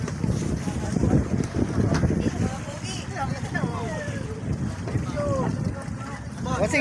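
Fishing boat at sea in strong wind, with heavy wind buffeting and a low steady rumble throughout, while people talk over it.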